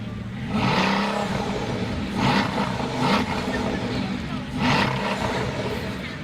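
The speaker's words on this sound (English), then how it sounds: "And Lord Pembroke, if you'd like to rev it, and we'll see how loud." A Bugatti Veyron engine at a supercar parade rises in three revving swells over a low growling idle, heard at a moderate distance with people talking over it.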